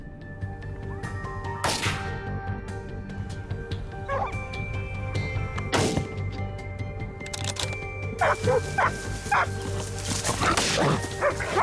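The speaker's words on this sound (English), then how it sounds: "hunters rely on hunting dogs to help track wild boars" Hunting dogs used to track wild boars bark repeatedly. Some barks are deep and some are high yips, with a few whimpers in between, close by and overlapping.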